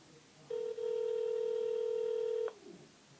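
A telephone on an outgoing call plays one steady ringback tone lasting about two seconds, clear and close in a quiet room, with no talking during it.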